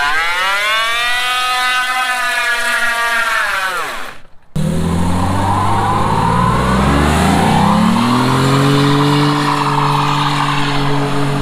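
A 92-volt electric motorcycle doing a burnout gives off a loud, close electric whine that climbs and falls in pitch. After a brief dropout the whine returns louder, with rising and sweeping tones.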